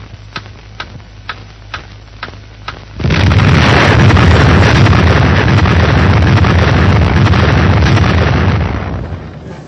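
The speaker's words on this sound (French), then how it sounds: "la minute solennelle de la première explosion atomique française" First French atomic bomb test in the Sahara in an archival recording: a few regular ticking clicks, then a sudden massive blast swelling into a long, loud, rumbling roar that slowly fades.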